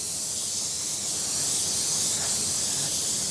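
Steady, loud hiss of a paint spray gun spraying continuously onto MDF, close by, with no pauses or voices.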